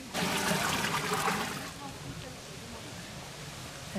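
Water poured from a vessel while preparing homemade soap, a steady rushing pour loudest at the start and then settling into a softer trickle, with a voice speaking nearby.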